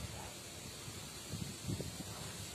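Wind blowing steadily outdoors on a day of persistent wind, a constant soft hiss with a few low gusty rustles and buffets, and no clear voices.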